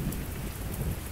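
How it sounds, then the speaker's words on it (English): Steady rain with rumbling thunder in the survival video game Sos Survival, a continuous dense hiss over a low rolling roar, moderately loud, with no speech. "it's raining all the time"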